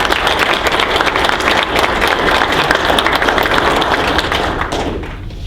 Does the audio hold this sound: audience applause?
yes